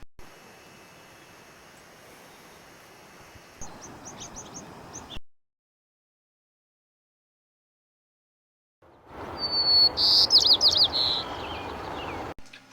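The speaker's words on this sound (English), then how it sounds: "White-crowned sparrow." A white-crowned sparrow singing, a short bright series of whistled and buzzy notes, fairly close and clear, after an earlier stretch of faint chirps and a silent gap, with a low background hum beneath.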